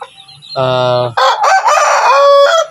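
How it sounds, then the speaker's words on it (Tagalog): A backyard rooster crows loudly and close by, a single full cock-a-doodle-doo call with a clucking lead-in, heard on its own. "Yung manok na yan."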